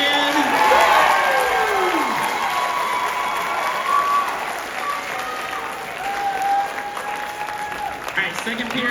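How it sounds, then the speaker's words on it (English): High school audience at a holiday extravaganza applauding one of the class periods, steady dense clapping with cheering and crowd noise, a voice sweeping through early on and talk over the top throughout. "Let's do one more round of applause for sixth period."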